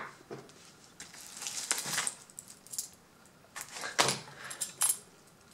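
A bunch of keys from Best or similar, along with padlocks and Euro cylinders, jingles and clinks while being pulled from a package, producing scattered metallic rattles and sharp taps at close range.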